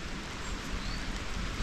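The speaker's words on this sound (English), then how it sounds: "It's just started to rain now." Light rain beginning to fall outdoors beside a massive rectangular site with trees nearby, a soft steady patter that swells slightly at the end.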